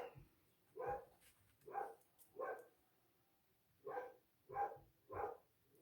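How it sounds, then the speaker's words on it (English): A dog barking indoors during holiday delivery season, six separate woofs: three spaced about a second apart, a short pause, then three more in the same rhythm, fairly near against a quiet room. "I apologize. He's going to bark."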